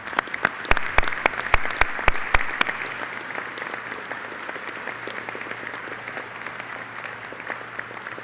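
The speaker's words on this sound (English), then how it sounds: "Please give them a round of applause." Applause from an audience at an airline pilots' union board of directors meeting, a dense wash of clapping with several sharp louder claps early on, steady throughout and fading slightly toward the end.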